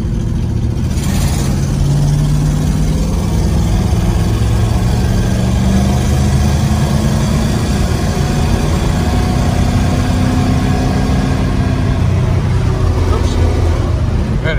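A 1967 AMC Marlin engine drones steadily as the car drives and shifts from second into third gear, a continuous low rumble with a voice talking over it.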